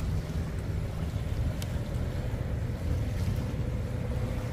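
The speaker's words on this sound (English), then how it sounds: "There's a boat coming back across over there." Boat passing on open water, a low steady engine rumble with wind buffeting the microphone and faint wave wash, continuous and moderately distant with no voices.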